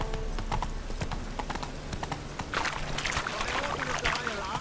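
The horse Roach trotting in the video game Witcher 3, a steady run of clip-clop hoof beats close by under a low voice, with a burst of rustling and movement noise toward the end.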